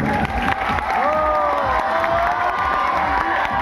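A school audience cheers, whoops and claps at a magic show, a loud, steady crowd roar with children's shouts rising above it for the whole stretch.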